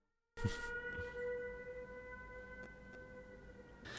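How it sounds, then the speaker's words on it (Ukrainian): An air raid siren wails over Kyiv, a steady tonal howl held almost unchanged for several seconds, distant and moderately loud with no talk over it. "в Києві оголошена повітряна тривога"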